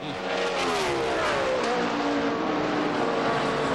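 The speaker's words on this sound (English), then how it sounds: "here comes Jeff Gordon and all that bunch" NASCAR Winston Cup stock cars roar past on the Watkins Glen road course, a loud continuous engine howl with shifting pitch as several cars pass close in a bunch.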